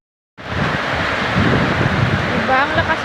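Strong wind gusting at the start of a rainstorm, a loud, steady roar of buffeting noise against the microphone that starts abruptly and holds continuous, with a faint tonal whistle near the end.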